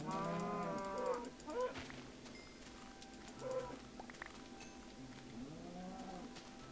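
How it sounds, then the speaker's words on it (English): Cows mooing on a farm, several long, drawn-out lowing calls spaced a few seconds apart, fairly close, with faint background noise between them. "And we got some cows."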